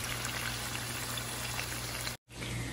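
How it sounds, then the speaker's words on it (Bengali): Pieces of helicopter catfish fry in a pan of hot oil with a loud, steady, crackling sizzle. The sound cuts off abruptly for a moment and then continues. "সো অলরেডি আমি সবগুলো মাছ দিয়ে দিয়েছি, এবার ভাজা হতে থাকুক।"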